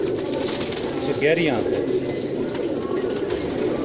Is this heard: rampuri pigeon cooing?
yes